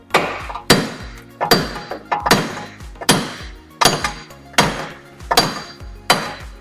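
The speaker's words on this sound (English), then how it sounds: "I'm going to whack on it with this little hammer." A small hammer strikes a wheel bearing on a Nissan Armada, about eight sharp metallic whacks at a steady pace, loud and close, each ringing briefly, with no talk.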